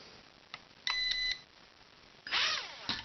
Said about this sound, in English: Makes a beep.